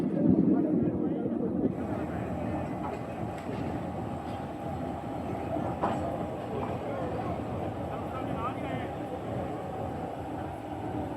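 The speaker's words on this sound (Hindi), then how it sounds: "GU20 लेके आ रहा है, एक पावर वैन को लेके आ रहा है सिर्फ।" A GU20 locomotive hauling a single power van rolls along the rails, a steady broadband rumble and rail noise sustained near and fairly loud throughout, with faint clicks over the top.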